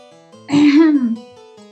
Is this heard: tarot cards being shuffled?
no